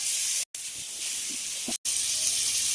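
Chicken pieces fry in butter in a wok for butter chicken, giving a steady, soft, airy hiss. The hiss cuts out abruptly twice for an instant.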